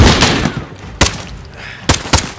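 Gunfire in the video game Call of Duty: Modern Warfare: a loud opening volley, then sharp, close shots, one near the middle and a quick pair near the end, with a rumbling tail between.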